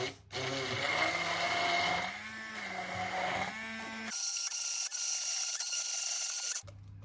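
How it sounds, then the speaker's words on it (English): An immersion blender whirs through egg, cream cheese and sweetener, a steady motor drone that shifts pitch as it mixes, then turns thinner and higher before cutting out near the end. "Now again, I'm just using an immersion blender"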